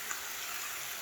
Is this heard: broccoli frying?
yes